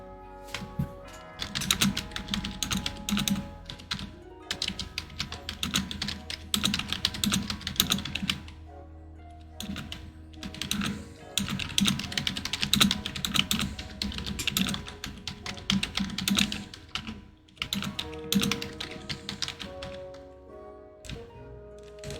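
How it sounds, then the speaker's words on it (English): Someone types a message on a computer keyboard in quick, irregular bursts of clattering key taps, with short pauses between runs, close and clear, with no voices. "I'm typing a message to someone."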